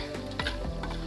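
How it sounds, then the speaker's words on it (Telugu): Chana dal and urad dal sizzling in a pan while a spoon scrapes through them in a couple of quick strokes, close and steady, with no voices. "సో శనగపప్పు మినపప్పు కొంచెం ఫ్రై చేసుకుంటున్నాం."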